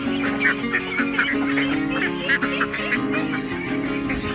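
Young farm ducklings about three months old quack and honk steadily in a close, busy flock, calls overlapping in bursts over a constant background of lower waterfowl chatter, with no talking.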